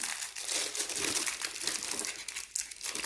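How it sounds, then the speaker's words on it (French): A plastic piping bag fitted with a round nozzle being folded by hand while making pistachio macarons, close crinkling and rustling in a continuous stream with small crackles, no talk. "Je plie comme ceci."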